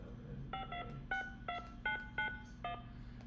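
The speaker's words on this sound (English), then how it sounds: "My fancy dial-up phone." Telephone dialing tones from a dial-up phone: seven short beeps in an uneven sequence, clear and close over a low background hum, with no talking.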